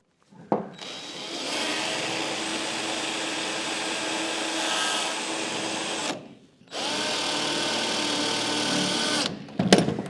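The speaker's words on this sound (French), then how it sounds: "je vais pouvoir brosser la partie du montant" Power wire brushing of the body pillar on a Citroën 2CV being cut apart: a loud, close, continuous high whirring grind that runs for several seconds, stops briefly, then resumes and cuts off.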